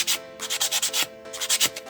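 A fingernail being filed smooth with a nail file, close and crisp, with quick rhythmic rasping strokes, about a dozen short scrapes in steady succession and no talking.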